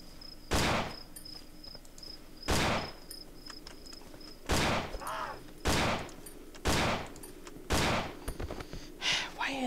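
Loud single gunshots ring out in the horror game Cry of Fear, about seven sharp blasts spaced one to two seconds apart, with faint high ringing tones and quiet ambience between them.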